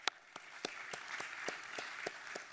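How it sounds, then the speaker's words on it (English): Audience applause at a space industry panel closing session: sparse, fairly distant claps recur in a loose rhythm, faint and thin. "big clap for SASIC"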